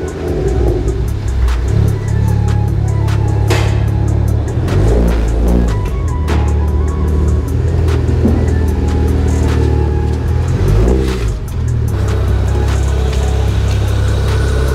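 A BMW 335 heard from inside the cabin while driving: a loud, deep engine drone that rises and falls with revving and repeated gear changes, with brief thumps and rattles and no talk.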